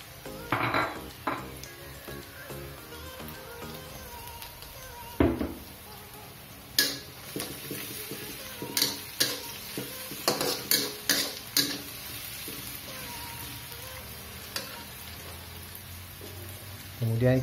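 Onions and bird's eye chilies stir-fried in a pan for sardines with egg, a steady close sizzle broken by repeated spatula scrapes and clanks against the pan.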